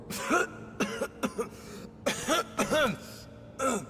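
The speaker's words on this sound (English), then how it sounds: "That's the first time I've heard you cough in a while." A video game character coughs in several harsh, irregular bursts, some doubled, close and dry with short pauses between them.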